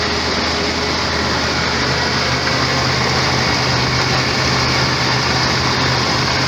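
A 1999 Jeep Cherokee 4.0L engine after a radiator replacement, running close and loud as a steady, dense drone with no clear rise or fall, nearly alone with no talking over it.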